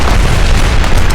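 A tank cannon fires a kill shot at a T-34 in the War Thunder video game: a very loud, close boom that fills the moment with a heavy, sustained roar.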